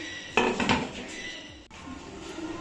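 A lid goes onto a cooking pan of moong dal pizza batter, making a couple of close metallic clanks and a rattle of pan and lid, then a quieter settling scrape, with no talking.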